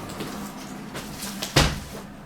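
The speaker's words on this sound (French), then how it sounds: "fermer la fenêtre." A window is pulled shut indoors: quiet shuffling and light knocks lead to one sharp, close thud as it closes, then the room settles. No one speaks.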